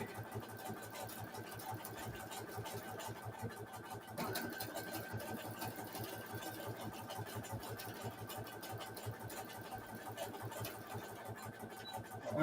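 A sewing machine stitches a rope bowl with a fast, steady mechanical chatter of needle strokes, close and continuous, with a slight shift in pitch partway through.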